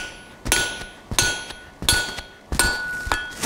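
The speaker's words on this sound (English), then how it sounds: "5 or 6 hammer blows, take your punch away," Four sharp metallic hammer blows strike a punch on an anvil while forging a tie bar, each a bright ringing clang spaced about half a second apart, close and alone.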